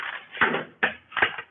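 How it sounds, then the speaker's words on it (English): Doors in an abandoned building being opened and shut, giving three sharp knocks or slams about 0.4 seconds apart, each followed by a short rattling decay, with no talking. "Oh, we got another door."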